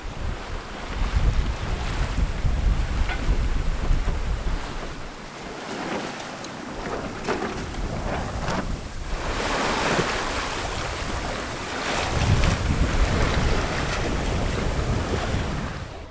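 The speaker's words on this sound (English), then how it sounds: "wind picked up and we started rolling quite a bit" A 45-year-old sailboat rolls on the open Atlantic. Steady wind and surging ocean waves roar loudly and continuously around it, and the noise swells and eases with each roll. There is no talk.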